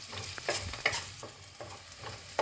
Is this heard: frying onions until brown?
yes